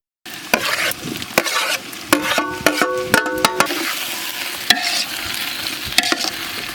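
Tomatoes stirred into a frying pan while making country chicken biryani, sizzling loudly under a run of rapid metallic spoon clanks and scrapes against the pan, with no talking.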